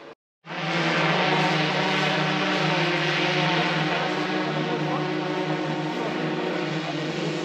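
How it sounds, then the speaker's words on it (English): A drone flies overhead at the Monte Alban ruins in Oaxaca, Mexico, giving off a steady, loud, buzzing motor drone that starts abruptly and holds without a break. "Pay no attention to that drone noise you hear."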